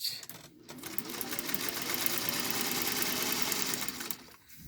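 A sewing machine runs steadily to stitch a French seam in fabric, making a continuous close whir for about four seconds, with brief pauses at the start and end.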